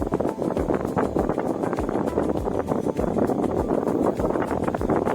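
Strong air from a small homemade rechargeable fan with joystick vibration motors batters the mic in a continuous, gusty roar with rapid flutter, close and loud throughout.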